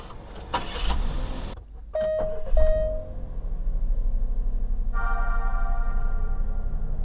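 A Daihatsu Atrai kei camper van cranks and its small engine catches, a brief chime sounding before it settles into a steady idle and pulls away, heard from close by inside the car.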